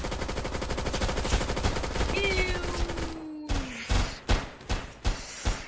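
Rapid automatic gunfire in VRChat sounds as a dense, continuous rattle, then stops and gives way to a few separate heavy thumps. A voice shouts over the shooting.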